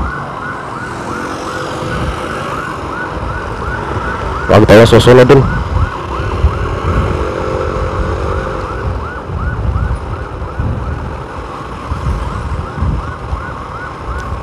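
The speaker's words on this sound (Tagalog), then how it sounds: "ay ambulance, kala ko pulis." A passing ambulance wails continuously in a fast rising-and-falling cycle over road traffic, with a short, loud horn-like blast partway through, while someone speaks briefly over it.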